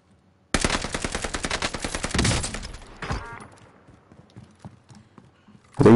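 Rapid automatic gunfire in a video game fires in a long, steady burst of close, loud shots. A few scattered shots follow, then a sharp louder crack at the end, with no talk.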